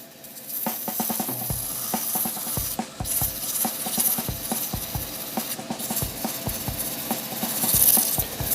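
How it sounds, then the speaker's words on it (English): Coarse grit sandpaper is worked back and forth over a turned wood and resin shaving brush handle, giving quick irregular rasping strokes, close and fairly loud, with no voices. "I'm just using this fairly coarse grit to actually just blend all the different curves together now"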